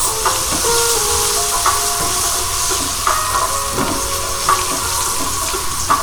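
Steady sizzling and crackling of chopped garlic frying in a pan, a continuous hiss with occasional scraping clinks from stirring, no voices.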